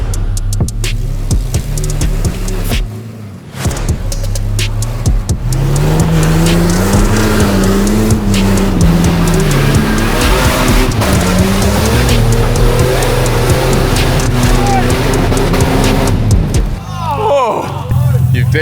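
A build car driven hard with an overheated tyre, loud engine revving and working close by with tyre squeal, while people talk over it.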